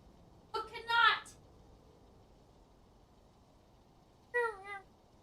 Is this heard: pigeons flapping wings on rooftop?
no